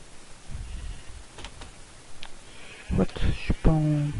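Sheep in a Minecraft modpack let out a clear, wavering bleat near the end after softer stirrings and clicks, with a voice also present.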